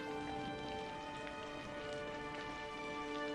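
Heavy rain falls in a steady, dense hiss, even and unbroken, with a faint tonal hum underneath and no voices.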